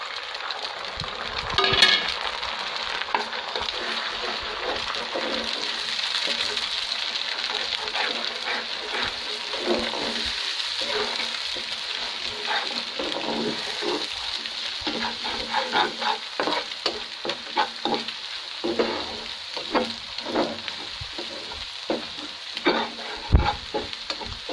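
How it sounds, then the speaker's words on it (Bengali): Three eggs sizzle loudly in a hot pan while a utensil stirs and scrapes them, the frying hiss continuous with irregular clinks and scrapes throughout, no voices. "এখন আমি তিনটা ডিম দিয়ে দিব।"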